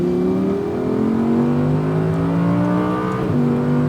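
A stock Audi R8 V10 RWD at full throttle on the Speed Vegas track: a loud, close engine note climbs steadily for several seconds, dips with a quick gear change, then keeps pulling hard.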